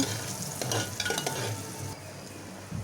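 Coriander-cumin powder and turmeric stirred into a hot oil tempering, with a steady close sizzle and scraping spoon strokes that ease off near the end.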